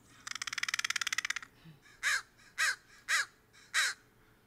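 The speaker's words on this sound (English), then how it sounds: "The caw-caw is essentially the same kind of thing as a bird's song." A crow caws four times in a slow, evenly spaced series, loud and close, after a quick rattling burst of clicks; no one speaks.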